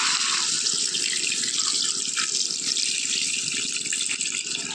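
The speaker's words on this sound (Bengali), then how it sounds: "এবার দিয়ে দেবো জল" Water poured from a vessel into a simmering pointed gourd, potato and paneer curry in a pan, a steady close rushing splash lasting several seconds before stopping abruptly.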